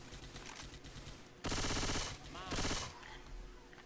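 Two loud bursts of rapid automatic gunfire in Left 4 Dead 2, The Passing map, each lasting about half a second, ringing out over a busy background of game noise.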